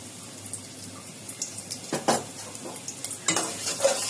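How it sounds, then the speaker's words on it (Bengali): Onions frying in plenty of hot oil in a home kitchen as they are stirred, with soft sizzling and a few louder scraping stirs near the middle and end. "তো পেঁয়াজটাকে ভালো মতো ভাজা ভাজা করে নিতে হবে। তো আমি নাড়াচাড়া দিয়ে নিচ্ছি।"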